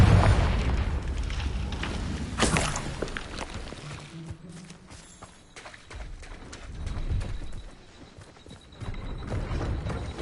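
A Confringo explosive spell blasts in Hogwarts Legacy, a sharp booming burst near the start followed by crackling debris and lighter combat noise, loud and close with no talking over it.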